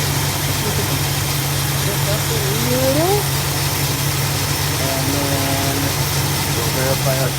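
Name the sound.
1963 Buick Electra 225 engine idling during idle mixture adjustment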